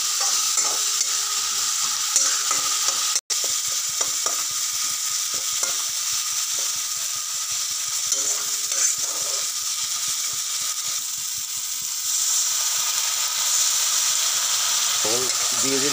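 Turmeric and cumin powder fry in a pan while being stirred, giving a steady, close sizzle with continuous scraping strokes that last throughout.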